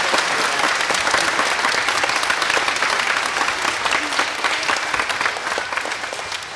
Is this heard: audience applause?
yes